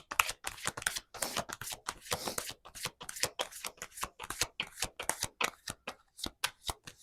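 Tarot cards riffled and shuffled by hand in a rapid, steady run of crisp papery flutters and taps, close and fairly loud with no talk over it.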